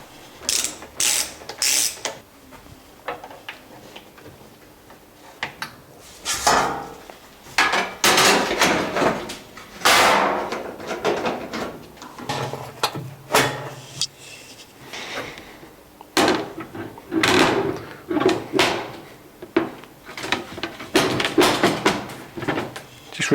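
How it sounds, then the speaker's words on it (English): Oven door being refitted to a cooker after a thermostat replacement, with its hinge clips snapped closed: a series of close, sharp metallic clicks, ratcheting snaps and clunks in irregular bursts, with brief pauses between. "Just remember when we're replacing the door to reclose the clips."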